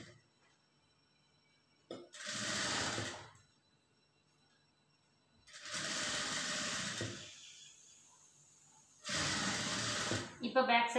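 A sewing machine stitches a lined blouse in three bursts of whirring, each lasting about a second or two, separated by quiet pauses. The sound is close and moderately loud.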